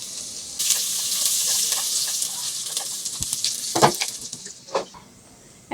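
Chopped onions drop into hot oil left from frying onions, bursting into a loud, close sizzle that settles as a spoon stirs and scrapes, then fades toward the end.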